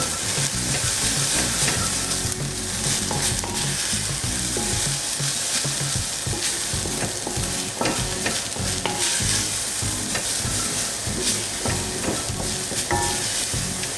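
Ground beef with cumin and chili powder fries in a pan for a Mexican beef casserole, a steady close sizzle under repeated scraping stirs throughout, with no talking.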